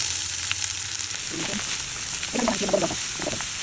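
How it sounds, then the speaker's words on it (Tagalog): Onions fry in heated oil in a pan, a close, continuous hissing sizzle with small crackles and spatters that swell briefly partway through, with no talk. "Ito may pinainit na akong mantika sa kawali. Tulog lang natin sibuyas."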